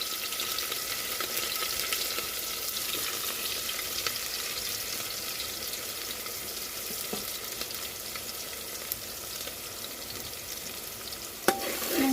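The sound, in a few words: onions and green chilies sautéing in oil while stirred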